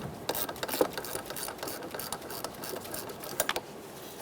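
Ratchet with a 10mm socket loosening the negative battery terminal on a 2010-2013 Kia Soul 2.0L, a quiet run of rapid light clicks with a couple of louder pawl ticks, close and alone.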